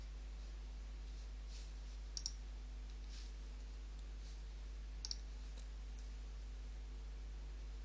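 Two pairs of quick, faint computer mouse clicks sound a few seconds apart as an icon in drawing software is selected, set against a low steady hum.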